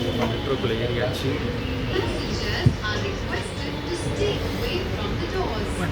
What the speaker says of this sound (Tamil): மெட்ரோக்குள்ளே ஏறியாச்சு.